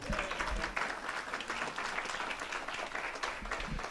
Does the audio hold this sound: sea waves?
no